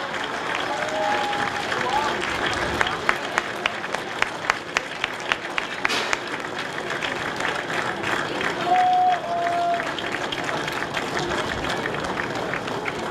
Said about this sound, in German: Applaus brauchen wir für Slow de Beauvoisin.